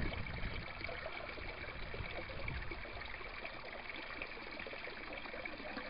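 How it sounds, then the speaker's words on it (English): Water rushing steadily through an aquaponics U-siphon as it starts to drain, a constant close trickling and gurgling flow with no voices. "And the siphon's just starting up now."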